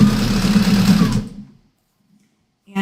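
A domestic sewing machine runs steadily while stitching a quilt, a close, continuous motorized whir with rapid needle chatter that stops abruptly, followed by near silence.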